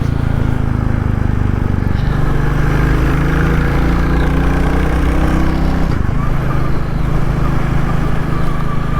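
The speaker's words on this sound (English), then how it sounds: "It's a lovely little bike to ride." Royal Enfield Classic 350 motorcycle being ridden on an open road, its single engine a steady loud thrum with brief shifts in pitch as it changes gear, under a rider's talk.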